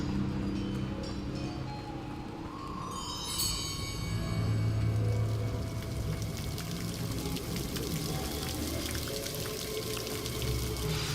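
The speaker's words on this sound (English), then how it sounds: "The waterfall." Steady rushing water from a waterfall in the video game Hogwarts Legacy, a continuous broadband roar under a faint game ambience, with a brief ringing chime near the start.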